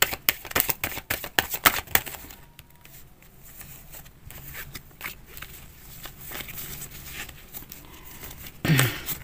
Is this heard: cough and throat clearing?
no